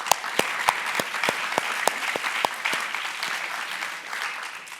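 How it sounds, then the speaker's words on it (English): Applause from the audience at the 2024 Skoll World Forum session on philanthropy, with sharp individual claps standing out over a softer wash of clapping that gradually thins out over nearly five seconds. "So a round of applause for that."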